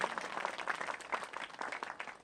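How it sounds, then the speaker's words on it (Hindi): A church congregation claps during a Hindi-language sermon by a pastor, a quiet, uneven run of hand claps that stays fairly distant and continues without a pause. "ताली तो बजा दे"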